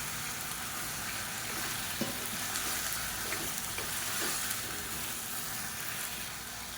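Brinjal, tomato and green chillies sautéing in a pan for Tamil kathirikai chutney, giving a steady, fairly quiet sizzle with a few faint scrapes of stirring, no voices.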